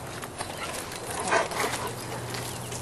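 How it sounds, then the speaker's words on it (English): A five-week-old puppy whimpers and gives a few faint yips and barks, soft and intermittent over a quiet background. "this is the dog Chariot."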